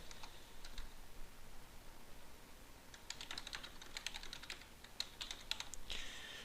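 Quiet computer keyboard typing: a few isolated key taps, then a denser run of quick clicks in irregular bursts, close and soft, with no voices.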